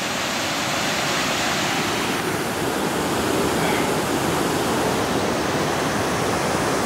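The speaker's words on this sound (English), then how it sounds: "That water is moving quick." The fast-flowing Ohanapecosh River rushes in a loud, continuous broadband roar of churning water, heard up close and alone.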